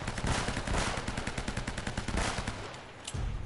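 Sully fires in Uncharted: a dense, rapid burst of gunshots like machine-gun fire, loud and continuous for about three seconds, then a brief lull before the firing resumes.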